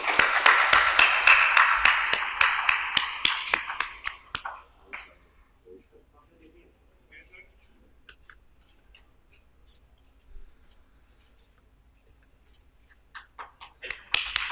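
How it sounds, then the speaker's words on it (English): Brief applause from an audience at a formal event with a federal education minister, a few seconds of dense clapping that quickly thins out into scattered claps and quiet. "Ladies and gentlemen, a round of applause"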